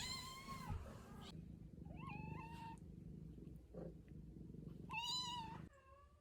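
A pet cat named Fawcett lets out several quiet, drawn-out meows with pauses between them, over a low background hum in a home.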